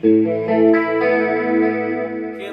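Schecter electric guitar through a HELIX LT on a clean tone, chords played on a blended middle-and-bridge pickup setting, a full sustained strum ringing out with effects, then a second chord struck near the end.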